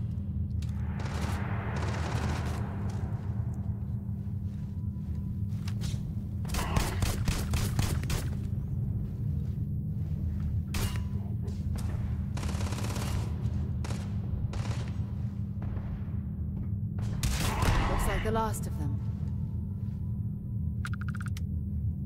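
Gunfire crackles in Starfield as several loud bursts of rapid shots, some dense and rattling, spread across a constant low droning hum, with quieter gaps between bursts.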